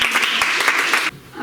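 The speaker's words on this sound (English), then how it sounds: "A great applause for Borja Valero Benitez from 2nd FESO B class." Audience at a school public speaking contest clapping for a contestant, a short run of close, loud claps that stops abruptly.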